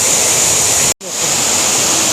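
Steady roar of a waterfall near Kuntala Falls in Telangana, a loud, broad rushing wash that fills the clip, cut by a brief gap near the one-second mark before returning at full strength.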